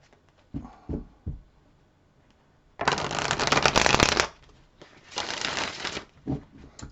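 Tarot cards being shuffled in several bursts: a few short riffles, then two longer, louder bouts of rapid papery flutter, with quieter taps between.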